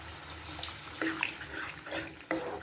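Water poured into a pan of squid gravy being cooked with chili powder, a steady splashing trickle with a few brief surges, close and alone.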